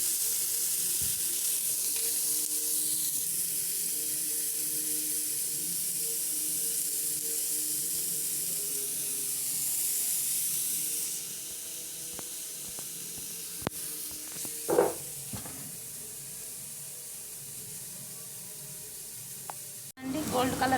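Chopped onions with a little salt fry steadily in a pan for an omelet, a continuous close hiss and sizzle that softens partway through, with a few faint clicks of a utensil near the end.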